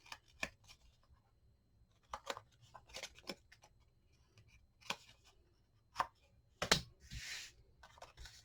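Scored paper for a Halloween coffin mini album is trimmed with a paper trimmer, producing soft, close, scattered snips and clicks in short irregular bursts, ending in a louder slicing swish.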